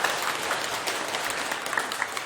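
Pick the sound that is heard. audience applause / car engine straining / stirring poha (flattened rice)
audience applause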